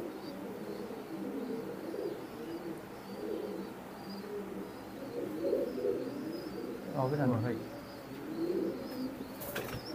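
Imported Teddy pigeons coo in low, murmuring runs that continue steadily at low volume, with chirps and a brief flutter mixed in, while someone speaks briefly nearby.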